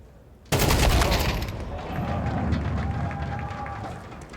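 Sharp burst of gunfire in a Counter-Strike match, P250 pistol shots cracking out close and loud, followed by a sustained wash of game noise with faint tonal whines underneath.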